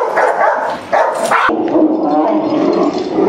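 A dog barks and growls close by with continuous, fairly loud yapping noise in an outdoor encounter.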